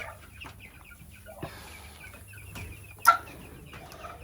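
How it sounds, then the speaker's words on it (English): Laying hens cluck softly and intermittently nearby inside a coop, with one sharper, louder squawk partway through. "we have just the regular laying chickens, but let's jump inside this coop"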